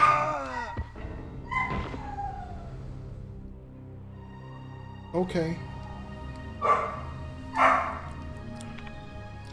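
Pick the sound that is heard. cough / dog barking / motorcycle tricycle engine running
dog barking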